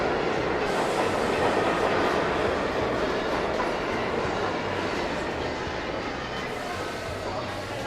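A New York subway A train pulls into the station with a loud, steady rumble and rattling clatter of wheels that fills the whole clip, easing off slightly toward the end.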